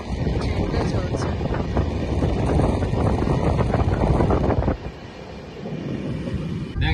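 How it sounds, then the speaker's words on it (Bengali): A moving passenger train rumbles along with steady rolling noise and wind buffeting, loud and close, while people talk over it; the rumble drops sharply near the end. "ট্রেনটা চলছে।"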